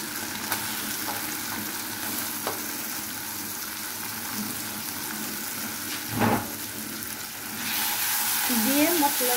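Sliced stalks and parboiled potato sautéed in spices make a low, continuous pan sizzle with a few soft knocks, brightening into a louder hiss near the end, with some faint voice in the background.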